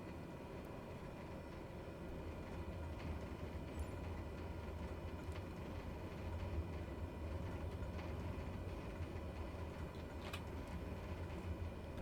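A Cessna Caravan taxis in Microsoft Flight Simulator 2020 at Papa Westray, with a steady turboprop drone and rumble holding level throughout and no voices.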